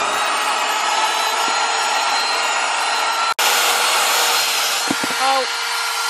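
A cheap handheld car vacuum cleaner bought from TEMU drones steadily and loudly up close while sucking up crumbs, with a brief cut-out midway and a short voiced sound near the end.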